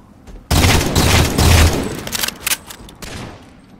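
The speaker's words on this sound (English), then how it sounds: "they got an incineration cannon on the bridge." Heavy weapon fire in a Halo 4 Dominion multiplayer match: an incineration cannon booms in loud, dense bursts of blasts and explosions that crowd together for a few seconds, then thin out into scattered cracks and fading rumble.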